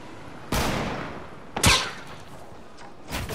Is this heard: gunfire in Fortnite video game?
yes